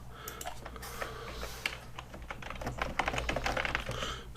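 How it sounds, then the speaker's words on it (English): Fast, steady typing on a computer keyboard, near and clear: a dense stream of light key clicks with a few louder taps mixed in, alone and with no talking. "when I'm hitting letters, I don't want to do a search"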